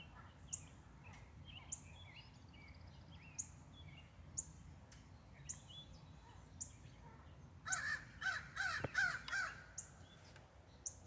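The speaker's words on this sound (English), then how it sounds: "I don't think any more are going to try to get anything with these crows raising Cain." A group of crows caws repeatedly around backyard bird feeders, with regular harsh calls punctuating the first several seconds before a louder, denser burst of overlapping cawing near the end.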